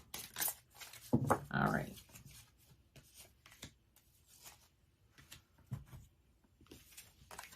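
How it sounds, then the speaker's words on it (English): A deck of tarot cards is shuffled at close range in soft bursts of riffling and sliding paper, quiet and irregular, with a brief spoken remark. "I'm going to shuffle them one more time."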